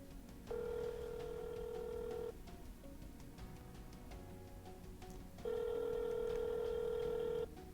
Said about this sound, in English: So you can hear that it's ringing